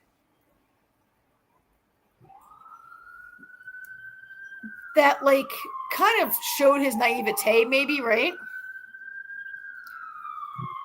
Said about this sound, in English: here comes an ambulance